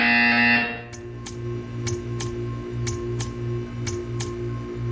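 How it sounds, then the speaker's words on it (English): A buzzer from the video game Portal 2, a loud electronic buzz that cuts off after about a second, followed by a quieter hum with a series of evenly spaced ticking clicks. "You will hear a buzzer. When you hear the buzzer, stare at the art."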